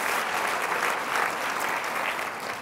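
Audience applause fills a luncheon hall, a dense, steady wash of many hands clapping at even loudness for the full few seconds, with no voices standing out.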